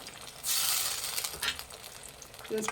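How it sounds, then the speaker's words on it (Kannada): Ground onion and tomato paste fry in a pan for a chicken kadai, a steady broadband sizzle that swells loudly after a brief quiet start and carries on with a few faint clinks near the end. "ಫ್ರೈ ಮಾಡಿ"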